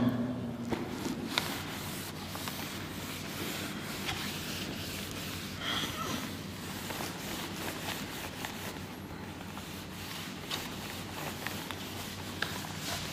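A duster rubs writing off a board during a physics lesson, giving a continuous, fairly quiet, scratchy back-and-forth rubbing that runs unbroken for about thirteen seconds, with faint breathing in the background.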